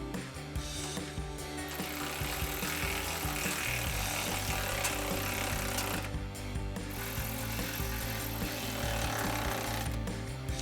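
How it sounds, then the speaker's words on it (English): A power tool fitted with a 10 mm socket tightens two nuts on a stud, pulling a RedRock BRS running board against a 2021-2024 Ford Bronco; the loud, close, continuous rattling buzz breaks off briefly around the middle and end. "We're going to tighten down the 2 nuts on our stud first to pull the side step in."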